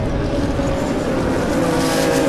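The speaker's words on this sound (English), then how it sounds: "Watch for the acceleration as the lights go out, dropping the hammer" BMW race cars at Zwartkops accelerate hard off the start as the lights go out, a loud continuous roar of several engines blending together, close and sustained with no talk over it.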